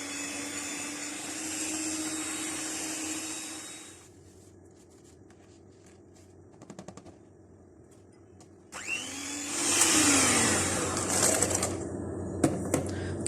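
An electric hand beater whirs loudly as it beats butter with ground brown sugar for a homemade cake, running steadily, cutting out for several quiet seconds with faint clatter, then starting up again with scraping bumps.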